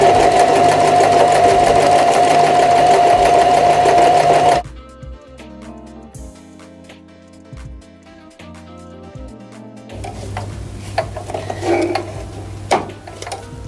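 A Janome 1000A sewing machine runs a zigzag stitch in a loud, steady mechanical whir for a few seconds, then falls quiet into softer clicks and handling sounds.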